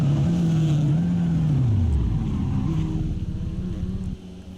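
GT race cars, a Mercedes and a Ford Mustang, roar through the Lesmo corners at Monza. Loud engine notes rise and then drop as the cars pass close by, ending with a steady rumble.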